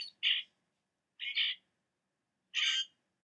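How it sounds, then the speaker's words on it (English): Purple grackle calling: three short, harsh, buzzy squeaks spaced about a second apart, clear and isolated against silence. "And the purple grackle."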